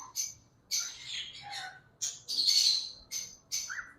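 A pair of ringneck parrots, a violet female and a turquoise male, give repeated sharp squawks and chirps in short bursts, close and clear over a quiet background.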